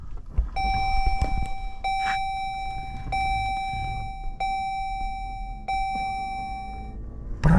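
A 2023 Chrysler Pacifica minivan being started, with a clear repeated electronic chime ringing at regular intervals over a low cabin rumble, ending in a brief louder thump.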